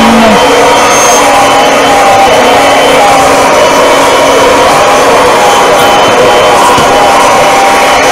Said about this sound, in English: I'm vacuuming the ceiling.